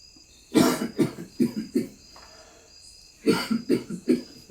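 Two fits of harsh coughing, each a quick run of four or five coughs, with a short quiet gap between them.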